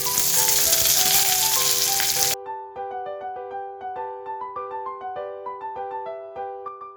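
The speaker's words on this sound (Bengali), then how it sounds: "পেঁয়াজটাকে হালকা লাল করে ভেজে নেব" Chopped onion fries in oil over a medium flame, a loud, dense sizzle for about two seconds that cuts off abruptly as light plucked background music takes over.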